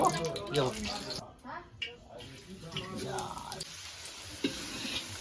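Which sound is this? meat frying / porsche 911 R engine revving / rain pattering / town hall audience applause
meat frying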